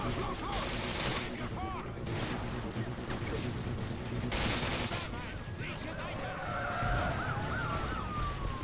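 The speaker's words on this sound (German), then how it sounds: "Ab durchs Fenster schießen." Bursts of gunfire fired through a window in Call of Duty Modern Warfare 2, loud broadband blasts over a dense wash of battle noise and whistling, honk-like tones.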